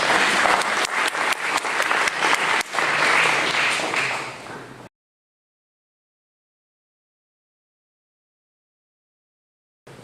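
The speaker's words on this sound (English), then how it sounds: "Round of applause for both gentlemen." Audience applause at a neighborhood candidates and issues forum for two candidates, dense and steady clapping for about five seconds before stopping abruptly into silence.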